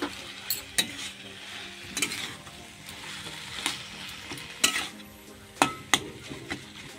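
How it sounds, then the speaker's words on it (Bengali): Potato filling being stirred in a wok, with repeated scraping and clanking strikes of the utensil against the pan over a low sizzle, close and moderately loud, no talking. "এরপর আলুর মিশ্রণটাকেও ওই কড়াইয়ের মধ্যে একটু নেড়ে নিতে হবে।"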